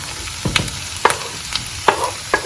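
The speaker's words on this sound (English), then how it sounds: "I'll go ahead and add my bacon." Bacon hitting a pan of partially cooked onions for a pasta dish, giving a loud close sizzle broken by several distinct scraping stirs and clacks of a utensil.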